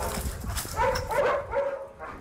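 A four-year-old Belgian Tervuren shepherd dog, working with a military handler, gives a few short barks and whimpery yips amid outdoor background noise and some low voice sounds.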